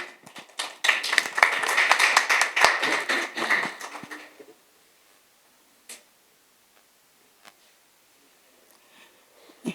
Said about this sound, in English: So a round of applause for umama